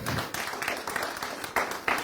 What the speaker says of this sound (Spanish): Dale el aplauso a Dios.